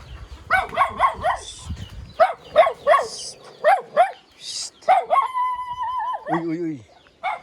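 A puppy barks close by in quick bursts of sharp yips, then gives a drawn-out, rising whine before a short low yelp, fairly loud and with no talk.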